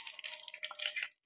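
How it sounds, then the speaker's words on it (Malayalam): Leftover water sputtering in hot coconut oil in a pan, faint irregular crackles and pops for about a second before dropping to near silence. "ഒന്ന് ചൂടായ ശേഷം കുറച്ച് വെള്ളം ഉണ്ട് തോന്നുന്നു, അതാണ് ഒരു സൗണ്ടൊക്കെ കേൾക്കുന്നത്."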